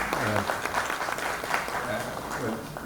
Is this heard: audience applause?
yes